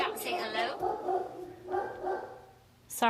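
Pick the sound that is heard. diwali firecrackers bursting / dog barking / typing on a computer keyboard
dog barking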